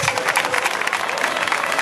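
Audience applause at a variety show during a town festival, a dense burst of many hands clapping together, close and sustained for the whole moment, with faint crowd murmur underneath.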